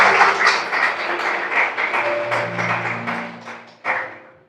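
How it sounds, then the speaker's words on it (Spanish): A church congregation applauds, a burst of clapping that swells and fades in uneven waves, with a final loud surge before dying away. "Denle un aplauso a Dios."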